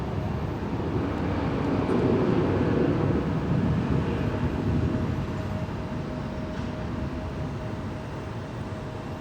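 An Embraer 175 regional jet of Marathon Airlines taxis at Zurich airport, a steady, broad engine rumble with a faint whine, constant and fairly near throughout with no talk.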